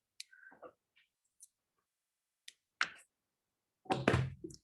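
Garden shears snip plant stems for propagation cuttings: a few sharp, isolated clicks spaced across a quiet stretch, ending in a louder cluster of cuts.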